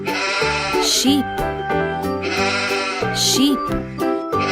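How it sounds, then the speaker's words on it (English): Sheep bleating in a children's farm-animal song, a wavering bleat rising twice over steady, bright musical accompaniment. "Sheep."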